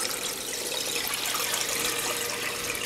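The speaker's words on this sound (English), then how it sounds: "You can hear how loud the overflow is." Water pouring down through an aquarium sump overflow, a loud, steady rushing gush with a constant trickling hiss, close by and uninterrupted, with no one talking.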